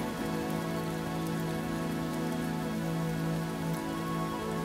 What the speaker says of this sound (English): Picture the rain in your mind,